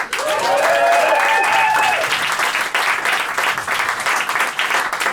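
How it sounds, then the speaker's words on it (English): Comedy club audience at Angel Comedy applauding loudly and steadily, with a few whoops and cheers rising over the clapping early on. "give them a round of applause"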